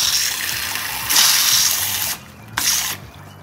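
Garden hose spraying water into a guinea pig's water bowl, a loud continuous hiss of gushing water that briefly cuts out and then resumes, close and alone.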